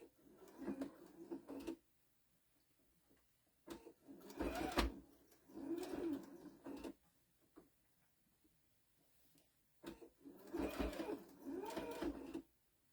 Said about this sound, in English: So you just sew the flower on and go around and around and around and around.